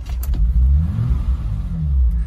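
A BMW 325 E30 cabrio fitted with an Alpina B3 engine idles close by, giving a steady, deep, rumbling drone with slight waver and no talking.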